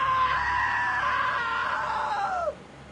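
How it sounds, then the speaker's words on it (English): A long, loud, high-pitched scream from a character in the video game What Remains of Edith Finch, held for over two seconds before it cuts off abruptly. "Now that was a great scream."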